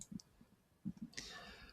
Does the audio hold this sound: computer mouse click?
yes